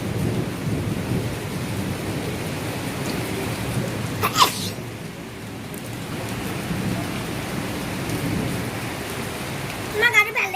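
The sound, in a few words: rain falling during a storm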